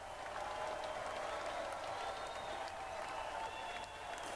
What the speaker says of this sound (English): the crowd continued to cheer, seemingly more interested in seeing blood than a match